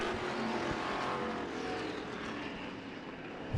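Vintage and stock cars race on an off-road speedway, their engines forming a steady, loud roar with a rising whine that holds throughout, and no talk over it.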